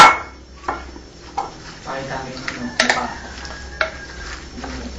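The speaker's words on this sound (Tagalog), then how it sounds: "And the lastly is the celery. Then now just mix it." Celery being stirred into a cooked dish with a utensil, giving scattered scrapes and light clinks against the pan over a low background hum, a few sharper knocks standing out.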